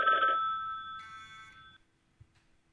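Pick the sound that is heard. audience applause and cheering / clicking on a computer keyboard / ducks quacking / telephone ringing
telephone ringing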